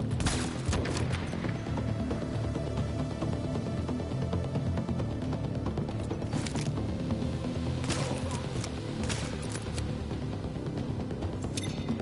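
Gunfire and grenade blasts from The Division fill a dense, constant game soundscape, with sharp shots and bursts standing out over a loud rumbling bed of combat noise.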